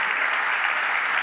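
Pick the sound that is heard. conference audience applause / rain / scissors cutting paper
conference audience applause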